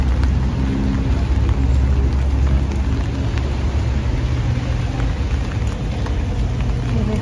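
Steady rain falls outdoors around the Manila Metropolitan Theater, a dense, even hiss that fills the whole stretch. Faint traffic rumbles underneath and no one speaks.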